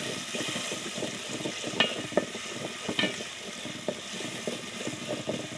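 Chopped onion, ginger paste, garlic paste and green chili fry in a pan with a steady hiss, broken by repeated scraping stirs and a few sharper clinks from the utensil.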